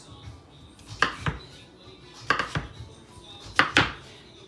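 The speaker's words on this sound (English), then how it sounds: "I'm gonna finish cutting up the rest of this butternut squash." A knife cuts through butternut squash on a board in three separated bursts of two or three quick chops each, close and fairly crisp against a quiet kitchen background.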